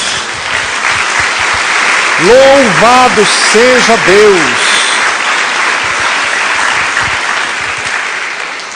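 A church congregation applauding with a broad wash of steady clapping, while a preacher's voice speaks loudly over it in the middle.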